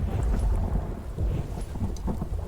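A thunderstorm in the survival game The Infected gives steady rain and a loud, rolling low rumble of thunder filling the whole clip, with no voices.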